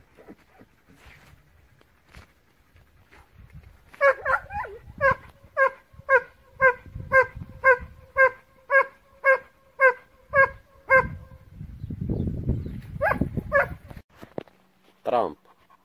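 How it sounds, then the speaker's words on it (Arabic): An aggressive dog barks in a steady run of about a dozen evenly spaced, loud, close barks, with quieter rustling and movement before and after and a few final yips and a whine at the end. "اخطر كلب في المنطقة"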